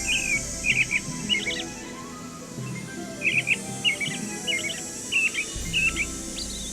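American robin song in a Nancy Drew video game plays as clear, close phrases of short caroling chirps in two bursts separated by a brief pause, over quiet background ambience.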